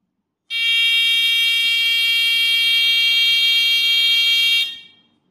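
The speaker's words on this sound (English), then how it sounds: "A buzzer makes a sound when electricity flows through it." A loud, steady electronic buzz from an electric buzzer in a simple circuit drones continuously for about four seconds, then cuts off with a short fading tail.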